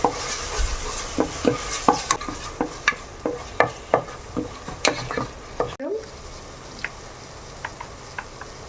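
A spoon stirs browned onions and ginger garlic paste frying in a pan, with rhythmic scraping taps over a steady oily sizzle, close up, the strokes thinning toward the end.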